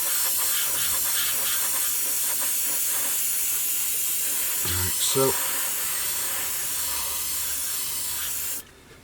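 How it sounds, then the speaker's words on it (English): A steady, continuous hiss of an airbrush spraying lacquer thinned with thinners over acrylic paint on a 1/48 scale Airfix Sabre F4 model runs throughout, with a brief spoken word partway through before the spray cuts off. "we're just going to spray this over the entire surface"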